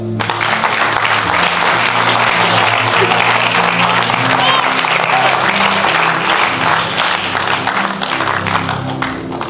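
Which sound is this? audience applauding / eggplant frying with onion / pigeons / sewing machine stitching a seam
audience applauding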